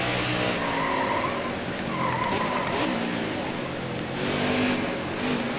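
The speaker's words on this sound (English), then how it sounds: "See the car slipping and sliding" Race cars' tires skid and slide around the track in the NASCAR Heat 4 video game during the Toyota/Savemart 350, a steady roar of engines and tire noise throughout, with a voice talking over it.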